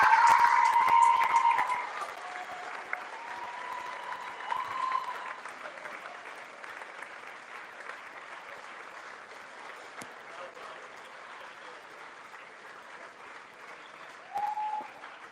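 A crowd at a football awards evening cheers and applauds winner Gemma Harvey, a loud burst at first that settles into a softer ongoing clatter of clapping, with a presenter's voice over it.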